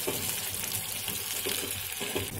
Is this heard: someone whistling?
no